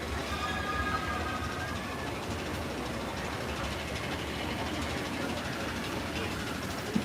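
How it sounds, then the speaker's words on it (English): The Disneyland Railroad train rumbles steadily overhead in the park, a low continuous rolling and clattering at moderate distance beneath a person talking. "we've got the Disneyland Railroad ripping right up above us"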